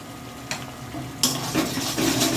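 A salted spice paste for Indian potato curry (aloo dum) is stirred in a pan, with a spoon scraping against the metal over a soft, steady sizzle that grows busier partway through.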